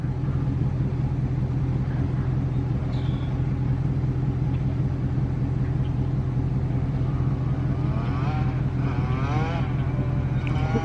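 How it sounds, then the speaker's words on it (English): A Yamaha YZ85 dirt bike engine runs with a steady, loud, buzzing rumble throughout, rising in pitch in a few quick revs near the end. "That bike is fast, bro. It's crazy."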